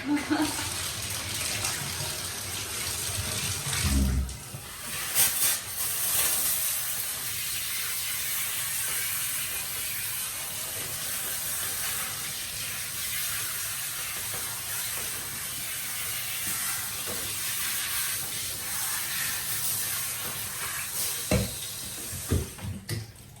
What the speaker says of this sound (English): just rinse everything, wash it down, and then rinse it very well, just like we did her body